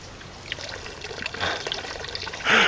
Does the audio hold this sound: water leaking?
yes